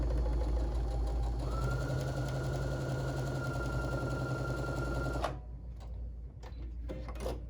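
A sewing machine runs steadily for about five seconds, stitching a quilt block with a fast, even mechanical whir and close chatter, then stops, leaving a few quiet handling clicks.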